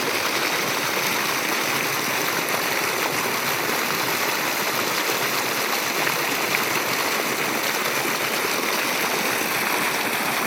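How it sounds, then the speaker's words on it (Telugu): A village stream flowing beside paddy fields makes a continuous, full rushing and gurgling wash of water, steady and fairly close, with no pauses. "వాగు వస్తుంది."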